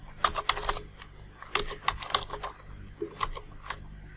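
Quick bursts of keystrokes on a computer keyboard come from someone entering Java code, irregular clusters of crisp clicks with brief pauses between them, close and clear.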